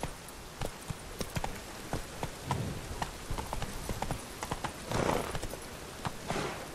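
Hooves of the horse Roach in The Witcher 3 clip-clop at a steady gallop, close and loud, with faint rain pattering underneath and a brief whinny partway through.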